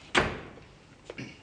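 An indoor door swings shut with a solid thud, followed by a couple of fainter clicks from the latch settling.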